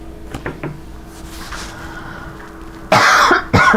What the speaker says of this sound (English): I've been coughing through all these readings